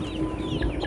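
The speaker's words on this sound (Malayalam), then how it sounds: "നന്നായിട്ട് പൊരുന്തലുള്ള കോഴികൾ തന്നെയാണ്." Native country hens cluck at a poultry yard where chicks are sold, a dense, steady run of close clucks and farmyard bird chatter with no talk.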